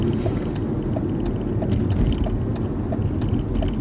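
A running Audi A4 with a 2-litre petrol engine and automatic gearbox, warmed up and driving at about 40, gives a steady low rumble and road roar from inside the cabin, with faint periodic ticks above the drone.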